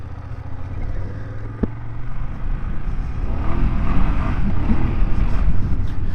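A 2024 BMW F800GS motorcycle ridden in Enduro mode, its engine droning steadily under heavy wind rush, with one sharp tick early on and the noise swelling louder toward the end.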